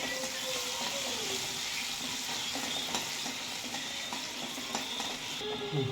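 Cumin, mustard seeds and ground ginger-garlic paste sautéing in hot oil in a pan, a continuous crackling sizzle with occasional stirring scrapes, close and steady throughout.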